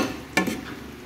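A single brisk scrape of a spoon stirring malabar spinach and meat in a pan, set against a low sizzle.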